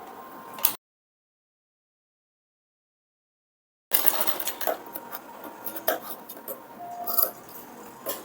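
Sewing machine stitching a 34-inch princess-cut blouse: a steady, close mechanical whir and patter that briefly cuts to total silence, then resumes running continuously with faint clinks.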